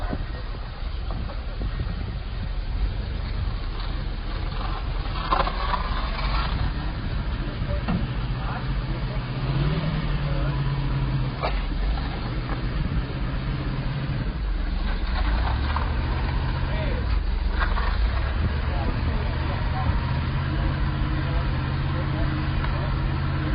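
A 1979 Dodge Lil Red Express truck, restored and driven for the first time in years, rumbles steadily on a drive, its low engine drone continuous with passing knocks and rattles, under a voice talking throughout.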